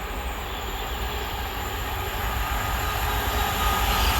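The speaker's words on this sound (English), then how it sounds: "First of the freight trains coming through" A freight train rumbles through Olton railway station at a steady, moderate distance, low mechanical drone with faint high squeal, growing slightly louder toward the end.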